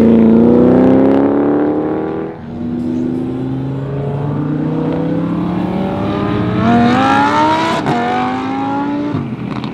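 Cars leave a Cars & Coffee meet in Roxboro, engines revving hard with rising gear pulls and a brief tire chirp, loud and close, one car after another accelerating away.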